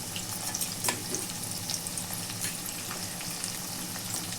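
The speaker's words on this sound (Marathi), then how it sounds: "हे बघा असे सगळे चांगले असे भाजून घ्यायचे." Semolina and potato tikkis fry in a pan with a steady, close crackling sizzle and scattered small pops throughout.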